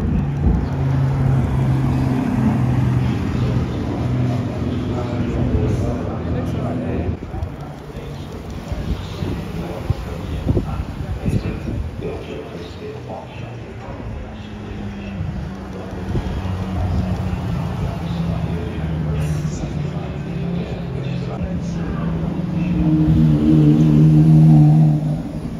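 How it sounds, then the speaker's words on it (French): At a car meet a Ferrari sports car drives back past, its engine a loud, wind-buffeted rumble that swells toward the end, with people talking throughout. "Et là, il y a la Ferrari qui revient."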